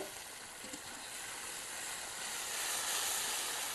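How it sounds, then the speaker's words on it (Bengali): Ginger garlic paste sizzles loudly in a hot pan, a dense continuous hiss that swells slightly toward the end, with no speech. "এই আদা রসুনের পেস্টটা দিয়ে আমি খুব সুন্দর করে একটু কষিয়ে নেব এখন"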